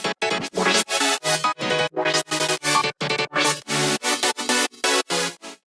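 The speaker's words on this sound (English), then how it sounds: "I'm also modulating the call and response with a low pass filter and an LFO" Electronic HiTECH DTM track with synth chords and piano in a call and response, chopped into rapid rhythmic stabs by a low pass filter and LFO, dense, loud and continuous with no voices.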